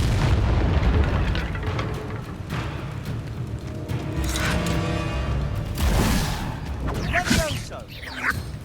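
A Confringo fire spell blast in the Hogwarts Legacy video game, booming amid a chaotic combat mix of rumbling impacts and crackling bursts, with a voice calling out during the fight.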